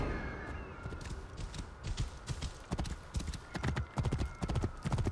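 Rhythmic clip-clop of a galloping horse's hooves in the video game Assassin's Creed Origins, steady and fairly close, with a brief whinny-like tone early on.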